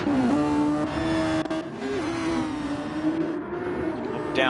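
Formula 2 race cars in a racing video game at the Belgian Grand Prix make a sustained high-pitched engine whine that climbs and shifts, loud and continuous, with cars passing through.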